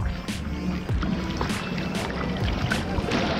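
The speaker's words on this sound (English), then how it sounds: "Gotta paddle up a little bit more." A surfboard is paddled through ocean water, with repeated soft splashing strokes and rushing water against a constant wash of wind and sea, close by and fairly quiet.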